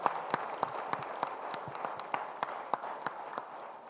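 Audience clapping at an outdoor meditation village celebration, a sparse, uneven run of individual hand claps repeating steadily over a murmuring crowd background, moderately distant rather than a full roar of applause.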